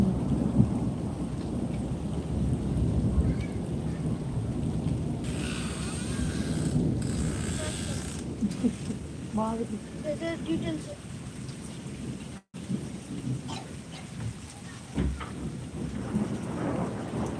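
A thunderstorm with hail and rain in Kashmir: a steady dense hiss of falling rain with low rolling thunder rumbles throughout, and a voice speaking briefly over it.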